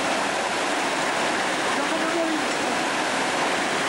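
A river rushes through a ravine at the Barranco de Urmella, a steady, dense roar of water that stays constant and close, with no voices.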